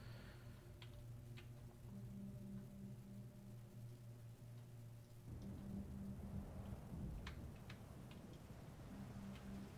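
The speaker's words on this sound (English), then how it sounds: "Again, it sounded like there was thunder outside my house." Deep rolling thunder from the City of Heroes game, sounding like a storm outside a house, rumbles low and steady with a rain-like hiss and a swell of heavier rumbling midway.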